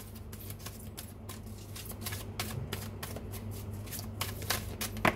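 Tarot cards being shuffled and handled at close range, a quiet run of soft riffling flicks and paper slaps over a low steady hum, with a sharper card snap at the end.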